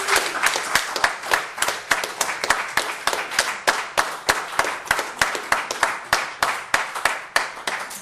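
A theatre audience claps steadily and loudly for the stage crew at the end of a play, a dense, even rhythm of many hands that holds without pause from start to finish.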